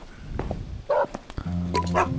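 A stray dog in a video game barks a few short, sharp times at close range, with a brief whine, over faint background game sounds.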